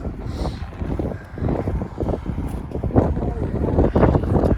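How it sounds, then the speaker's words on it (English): Wind buffets the microphone in rumbling gusts at an outdoor auction in Long Prairie, Minnesota, loud and close, with muffled voices underneath. "It's really windy here and probably the audio is not picking up very good."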